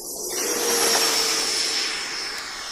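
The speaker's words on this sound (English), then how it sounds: "Pilots taking off the free wing F-16 90mm EDF." A remote-control F-16 with a 90mm electric ducted fan taking off, its high, whining jet-like roar swelling and holding steady, loud and close, before easing slightly as it pulls away.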